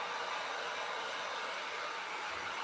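A hair dryer blows on wet paint during a decoupage craft session, a steady close whooshing drone that runs unbroken with no talking.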